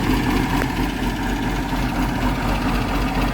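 The engine of a Hyundai excavator with a suspected hydraulic pump fault idles steadily, a continuous low rumble with an even mechanical hum and no talking.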